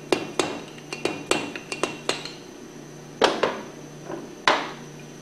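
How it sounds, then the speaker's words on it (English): A centrifugal pump seal being gently tapped out from the backside with a screwdriver, producing a series of sharp metallic taps at an uneven rhythm, close and clear with no talk. "the seal can be tapped out from the backside gently with a screwdriver"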